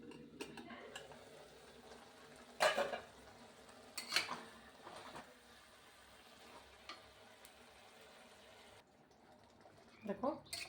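Leafy greens frying in a pan for an Assamese fish and greens curry: a faint, steady sizzle broken by a few sharp spatula scrapes and clinks against the pan.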